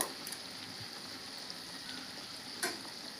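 Stuffed okra frying in a covered pan, a faint, even hiss of sizzling with one brief clink near the end.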